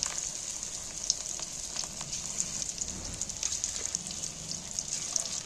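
Fish pieces fry in hot oil with a steady, close crackling sizzle and scattered sharp pops throughout.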